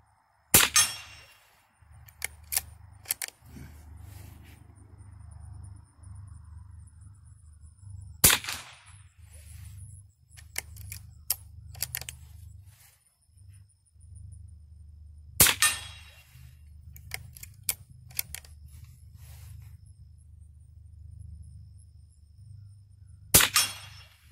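.22 caliber rifle shots during outdoor target practice: sharp, distant-sounding cracks fired singly and in quick clusters, separated by quiet gaps over a low background rumble.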